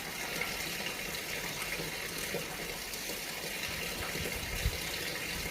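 Water splashing and running steadily while a tiled home floor is scrubbed and rinsed clean, a continuous broadband wash with small knocks, no talking.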